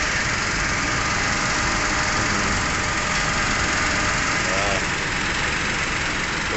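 A Toyota Wigo engine runs steadily at idle after an aircon auxiliary fan motor replacement, a constant close, even drone with a faint whine throughout.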